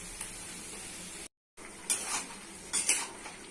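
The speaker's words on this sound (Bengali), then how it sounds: "আলু বেগুন মশলাটা কষে নিতে হবে" Potato and eggplant being sautéed with spices, a low sizzle broken by a brief gap, then a couple of close clinks and scrapes of a utensil against the pan.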